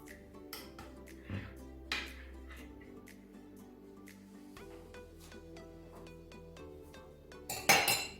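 Intermittent clinks and scrapes of a utensil stirring homemade chocolate ice cream in a container, with a few sharper knocks and a louder clatter near the end.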